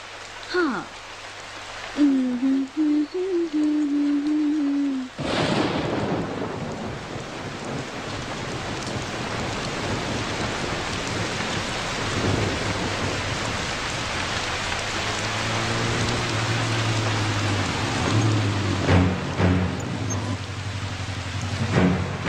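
Steady heavy rain pours down with a low rumble of thunder rolling through, and a voice briefly speaks at the start, in a film scene.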